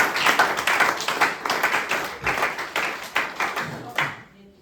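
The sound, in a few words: church congregation applauding loudly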